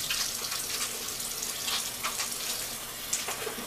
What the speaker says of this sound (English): I'm going to go ahead and wash my hands because my scalp was really greasy